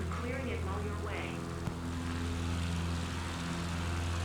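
A CubCrafter propeller plane engine at full throttle in Microsoft Flight Simulator 2024, towing an advertising banner: a steady loud droning hum with strong low harmonics, while a person speaks over it early on.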